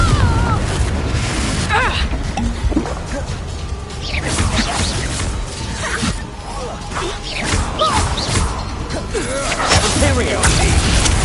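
A Confringo spell blasting in Hogwarts Legacy, dense booming explosions and crashing debris with whooshing bursts, loud and continuous amid layered game effects and voices.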